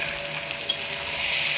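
Potatoes and peas frying for ghugni, a brief steady sizzle with one small pop partway through, close and even.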